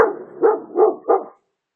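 A dog gives a short burst of about four barks at a steady pace, close and fairly loud. The barks are slightly yelping and fade to silence at the end.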